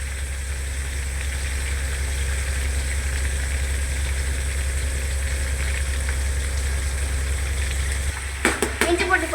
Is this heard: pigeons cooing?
no